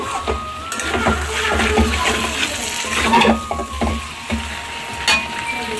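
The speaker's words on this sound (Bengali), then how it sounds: "এটা দিয়ে আর একটু নেড়ে কষিয়ে নেব" A home cook stirring meat curry while it fries in a pot, spoon scraping steadily over a continuous sizzle, close and fairly loud, with a few louder scrapes near the end.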